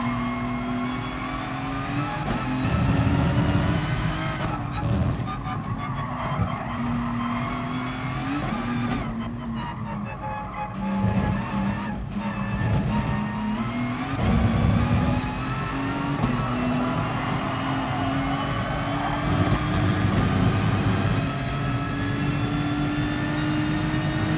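Race car in the video game GT Sport, its engine droning steadily at high revs and rising and falling through gear changes, with brief tire squeals, heard close and loud throughout.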